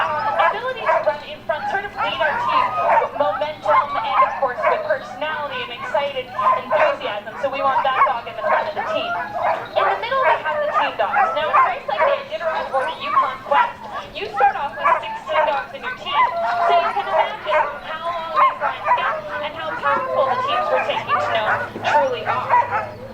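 Sled dogs from an Iditarod racing kennel bark and yip excitedly in a dense, continuous chorus close by throughout, with a person talking over the din.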